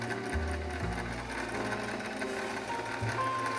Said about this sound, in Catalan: Ara hauré de cosir la vora del que acabo de retallar